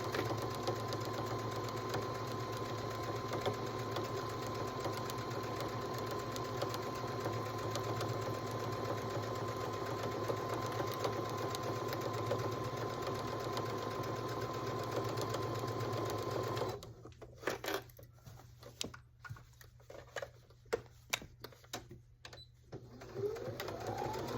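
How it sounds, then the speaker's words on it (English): A sewing machine stitching around the curved edge of a baby bib runs in a continuous whirring buzz for most of the stretch, then stops into quieter handling noises and a couple of clicks. "I am going to back stitch it where we started, and we're off. So we're just going to sew around."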